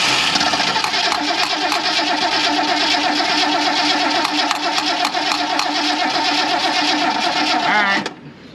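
A 1977 Mercury Grand Marquis with a fuel leak, cranked steadily for about eight seconds as the engine churns loudly and tries to catch, then the cranking cuts out abruptly and goes quiet.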